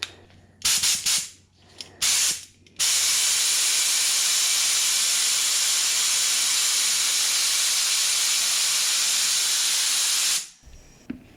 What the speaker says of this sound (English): I always run a little bit of lacquer thinner through my paint gun and then blow it out before I do any testing